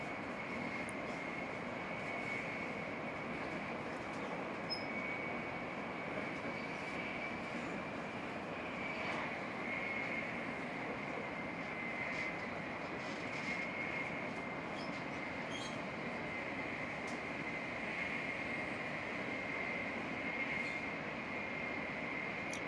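Steady, loud rumble of a moving train passing rice paddies, with constant roar and a faint high whine, heard up close from an open space between carriages.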